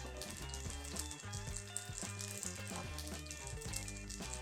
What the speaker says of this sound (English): while our tofu is frying away